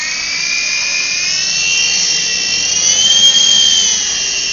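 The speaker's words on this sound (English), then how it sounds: "which is this helicopter right here." An HG08 remote control helicopter flies close by with a continuous high-pitched rotor and motor whine that swells slightly and wavers in pitch, with no voices.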